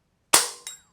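A Brocock Bantam Sniper HR air rifle fires a single Hornet pellet, giving one sharp, loud crack with a short ringing tail, followed about a third of a second later by a fainter distant thud of the pellet striking.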